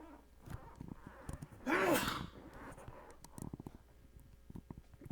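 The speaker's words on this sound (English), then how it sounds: "You'll just see a sneeze in the video." A single sharp sneeze bursts out close to the microphone, surrounded by quiet breathing and small rustles.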